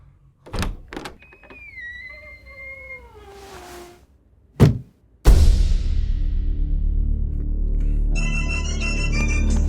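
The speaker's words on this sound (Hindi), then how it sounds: "तेरे दरवाजा खोलते ही फोन की घंटी बजेगी।" A phone's electronic ringtone starts late and rings in a steady repeating pattern over a loud, continuous background. Earlier there are meowing cat sounds and sharp door knocks.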